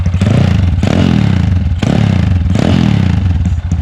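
A Honda Wave 125R motorcycle fitted with a Dream engine and Dream exhaust revs loudly and continuously up close, its roar rising and falling in a few surging pulses.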